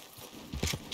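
In the video game Red Dead Redemption 2, a few heavy horse hoof thuds land in quick succession near the end, following a short stretch of low rumble, with a brighter hiss rising above them.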